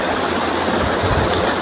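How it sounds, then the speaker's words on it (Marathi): Water runs from a tap onto a dry washbasin, a steady, loud rushing splash that holds evenly from start to finish. "नळ चालू करून बघा त्याच्यावर टाकते आता मी पाणी."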